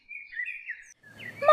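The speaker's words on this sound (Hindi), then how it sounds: "किसान का बेटा अपना हाथ हिलाता है और चिड़िया चली जाती है।" Cartoon bird chirps in a rainy-day story, a light twittering call near and alone, then a louder burst of busier chirping toward the end.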